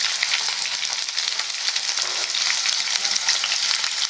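Chicken 65 pieces fry in hot oil until crispy, giving a loud, continuous dense sizzle with crackling bursts and occasional stirring, no voices.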